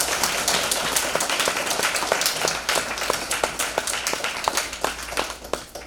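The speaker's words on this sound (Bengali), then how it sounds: "ওনার জন্য একবার জোরে হাততালি চাইব" A gathered crowd at a leadership celebration held in a guest house claps for the organisation's founder; sustained applause from a modest group, with individual claps distinctly audible in an uneven, lively rhythm.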